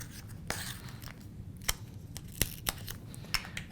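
Scissors cut paper for an envelope from a template kit, with a handful of crisp, separate snips spaced irregularly over a low background hum, close by and with no talking.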